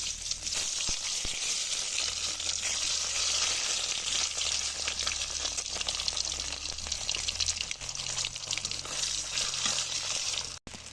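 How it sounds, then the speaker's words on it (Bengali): Onions frying in oil left over from frying eggs: a continuous, dense crackling sizzle that holds steady for about eleven seconds, fairly close, with no one talking. "আমি ওই পেঁয়াজগুলো দিয়ে নিছি ডিম ভাজার তেলের মধ্যেই"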